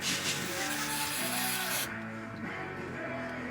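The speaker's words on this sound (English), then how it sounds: "I'll let us spray that out real quick." A hissing aerosol spray bursts for about two seconds onto the circuit board of a Line 6 DL4 effects pedal and then cuts off, over a faint background hum.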